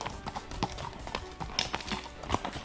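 Horse hooves clip-clop at an irregular walking rhythm during a ride through Abruzzo, Italy, fairly quiet and close, with no talk over them.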